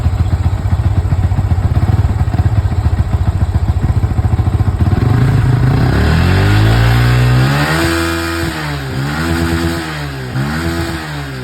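An older Yamaha Vixion motorcycle with a draining battery idles with a rapid clatter, then revs up several times in rising and falling surges, loud and close.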